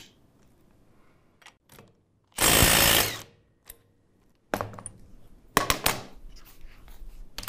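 Bosch GDS 18V-450 HC cordless impact wrench loosening a nut: a single close, loud burst of rapid hammering impacts lasting under a second, followed by several shorter rattling bursts and handling clicks.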